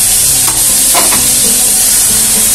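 Onion and green pepper fry loudly in a pan, a dense close sizzle broken by a few scraping strokes of a stirring utensil, with no speech.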